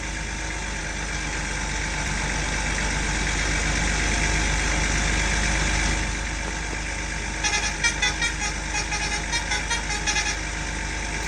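A truck's air horn sounds in a run of short repeated blasts near the end, over the steady drone of the truck's engine as it drives along a highway.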